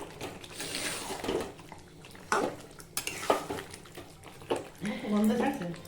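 A utensil scrapes and clinks against a pan while Bengali chicken kosha is stirred, with irregular metallic knocks and a sizzling wet shuffle, alongside a voice talking throughout.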